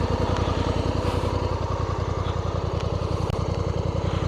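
A 2024 Honda Africa Twin motorcycle engine runs close by, a steady rapid low throb of evenly spaced pulses under a broad noisy wash, loud and unbroken for a few seconds.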